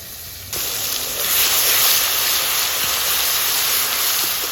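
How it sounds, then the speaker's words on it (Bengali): A paste of ground onion and garlic dropped into a hot pan of oil with cloves and cardamom, a sudden loud sizzle that bursts in and keeps hissing steadily close up. "পেঁয়াজ রসুনটাকে সুন্দর করে একটু ভেজে নেব।"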